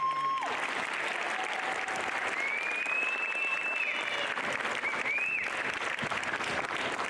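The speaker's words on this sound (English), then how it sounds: "real quick, round of applause for Paul" A crowd claps steadily in a continuous wash of applause, with a few high whistles rising over it, fairly faint and distant.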